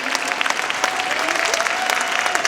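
Audience applause at a community organization event at the Queens Museum in New York, steady dense clapping from a crowd filling the whole stretch at an even level, with faint voices beneath it.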